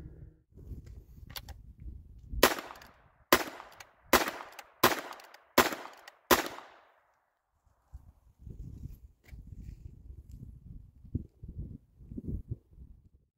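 A 16-inch Rough Rider .22LR revolver firing CCI Minimag rounds outdoors, six sharp evenly spaced shots in a row, with quieter handling and rustling before and after.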